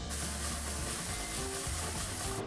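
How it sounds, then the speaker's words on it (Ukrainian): Loud, continuous sizzling of sliced button mushrooms frying in a hot pan, a steady crackling hiss with no voices. "А поки смажаться печериці"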